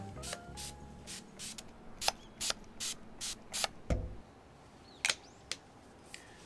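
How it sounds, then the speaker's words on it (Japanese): Suede nourishing mist sprayed onto leather shoes in a series of short hissing pump bursts, about a dozen quick sprays, some in steady rhythm and a few spaced apart, close and moderately loud with no talking. "スウェード用の栄養ミスト、これを振りかけると、"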